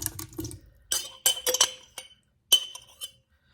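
A pint glass jar of home-canned beef clinks and knocks as it is handled in a kitchen. Several light glassy taps come in quick clusters with short pauses between them, close and fairly crisp.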